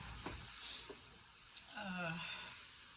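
Bacon frying in a pan gives a soft, steady sizzle with occasional light stirring taps, under brief quiet talk.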